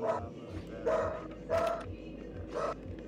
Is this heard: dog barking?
yes